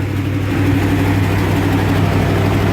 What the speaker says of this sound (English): The engine sounds pretty tight.